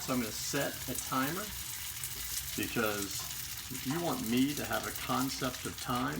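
Steady sizzling of dumplings frying in hot oil in a skillet, continuous underneath a person talking close by.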